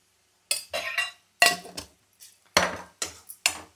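Metal spoon scraping and clinking against a cooking pot as garam masala powder is stirred in, in short irregular bursts of scraping strokes, close and fairly loud with pauses between.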